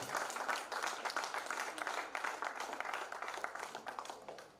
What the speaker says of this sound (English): So give yourself a big round of applause